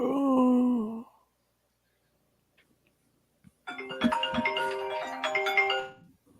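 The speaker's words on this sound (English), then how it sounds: "Someone answer your phone." A mobile phone ringtone goes off during a sports trivia game, a short tonal melody that plays, falls silent for a couple of seconds, then rings again more brightly before cutting off.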